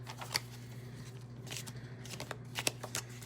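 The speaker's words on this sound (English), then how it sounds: "I'm going to shuffle one more time" Tarot cards being shuffled up close in quick bursts of soft riffling and flicking, quiet, with a faint steady hum underneath.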